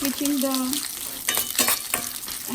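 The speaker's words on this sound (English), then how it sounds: "On low flame I'm roasting everything" Spices dry-roasting in a pan on low flame for lemon rice, soft sizzling with several sharp stirring scrapes and clicks, a faint tonal hum early on.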